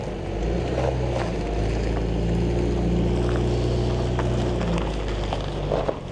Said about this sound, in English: I mean, look at this little Bronco go.